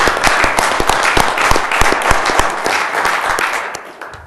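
Applause at a town council meeting in Fishers: a steady room-wide patter of many hands clapping, with a few louder, closer individual claps standing out, tapering slightly near the end. No talking.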